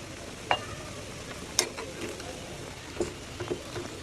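A spoon stirs radish, chillies, dried fish and soda together in a pan, with a faint sizzle under scattered scraping and tapping clicks.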